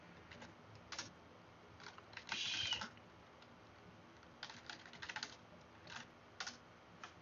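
Quiet keystrokes on a computer keyboard, in short irregular bursts of clicks, entering a command to clone a software repository, with a couple of longer runs of rapid typing and no talking.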